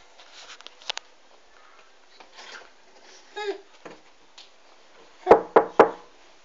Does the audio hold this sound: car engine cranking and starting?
no